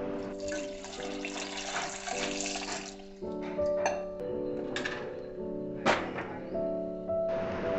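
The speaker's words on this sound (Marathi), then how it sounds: "मी 3 मोठ्या मोठ्या कैऱ्या घेतल्या आणि त्या स्वच्छ पाण्याने धुवून घेतल्या" Water splashes and sloshes as three large raw mangoes are rinsed in a sink, with intermittent runs of water and soft handling sounds, close up, while soft music plays.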